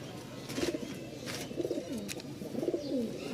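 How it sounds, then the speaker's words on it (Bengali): Giribaz pigeons at a pigeon market in Mirpur-1, Dhaka, give soft, low cooing calls in three rhythmic bursts over steady background market noise, with no nearby talk. "গিরিবাজ যাই বলেন না কেন ডিম বাচ্চা খাওয়ার জন্য বেস্ট কবুতর"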